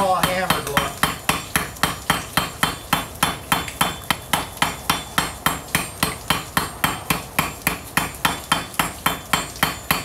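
Hammer blows ring out on a steel spike head held against an anvil. The evenly paced metallic strikes come close and loud, roughly three per second, each with a short bright ring, and no one speaks.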